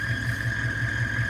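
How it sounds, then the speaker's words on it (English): Steady low rumble of an idling 6.5 diesel engine with a faint pulsing throb and a constant high whine, close and unbroken. "I don't know if you can hear the engine."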